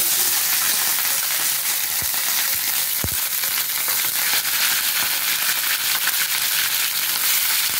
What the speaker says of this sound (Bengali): গ্যাসটা কমিয়ে পাতাগুলো আমি আস্তে আস্তে ছেড়ে দেবো। খুব আওয়াজ হবে কাঁচা পাতা।